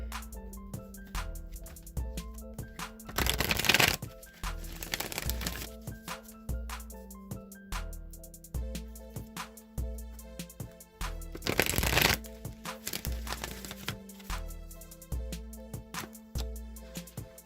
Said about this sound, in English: I'm going to shuffle the Wisdom of the Oracle deck now